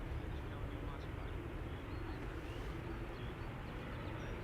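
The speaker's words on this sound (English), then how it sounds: "China Southern Cargo 777 freighter going to Shanghai" A China Southern Cargo Boeing 777 freighter takes off at Schiphol Airport, producing a steady, broad jet roar heard at a distance throughout.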